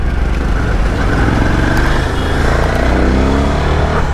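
A Venom motorcycle engine drones loud and close while riding, with a steady, throbbing exhaust rumble and a slight rise in pitch.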